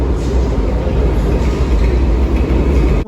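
Riding a train in Sydney heading to Newtown: a loud, steady low rumble of the moving carriage with constant rolling noise and no talk.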